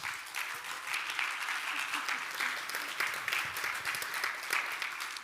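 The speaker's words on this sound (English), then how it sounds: "I would like to invite you up here so that you can give her an applause" Steady applause from an audience at a book launch honouring author Mireille Wunderly, a dense, even wash of clapping lasting the full stretch at moderate volume.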